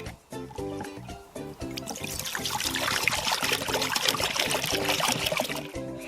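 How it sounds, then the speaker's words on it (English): Water is poured out of a container into a separate bowl while preparing homemade mead, a continuous splashing trickle that swells to a steady pour over faint background sounds. "Empty out roughly half of the container into a separate bowl to make space for the honey."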